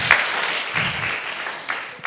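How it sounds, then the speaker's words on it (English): At an African cash award ceremony for a multiplication competition, an audience breaks into brief applause, a dense, fairly even wash of clapping heard close, with no talking. "Can we clap for her?"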